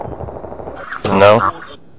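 A single loud gunshot headshot in a competitive first-person shooter match, landing about a second in after faint rapid clatter, with a short ringing tail.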